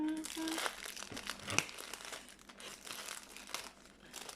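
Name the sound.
opening a package of wooden embellishments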